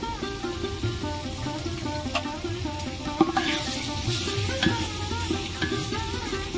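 Chili, turmeric and cumin powder frying for mutton curry, a loud continuous sizzle with rhythmic stirring scrapes and one sharp clack of the spoon, with no talking.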